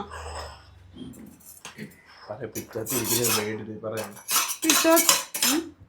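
A kitchen knife is sharpened with a file, giving repeated metallic rasping strokes that get louder toward the end, with scattered clinks and some voices around it.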